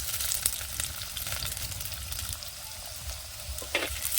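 Carrots and beans roasting in a pan over a village wood-fired stove, giving a loud, steady, close sizzle with rough crackling and occasional scrapes of stirring, no voices.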